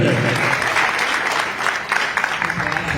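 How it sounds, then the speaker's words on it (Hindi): Dense applause for a group of children after a Chaap Tilak performance, loud and continuous throughout with a slight dip midway. "मैं चाहता हूँ प्रमोद कुशवाहा जी की इन बच्चों के लिए एक बार दिल से जोरदार तालियां होनी चाहिए"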